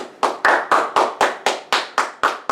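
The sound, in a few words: audience clapping at a Linux users group meeting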